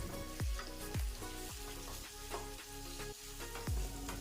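Boiled chicken and tomatoes frying in a pan over high flame, a steady sizzle broken by several sharp clanks and scrapes of a spoon stirring, close and fairly quiet, with no talking.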